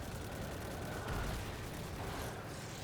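Video game explosions from a Warlock support build fill the clip as a dense, continuous roar of booming blasts and gunfire-like bursts, loud and unbroken for nearly three seconds.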